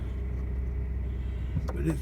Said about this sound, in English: It'll take a while for the truck to warm up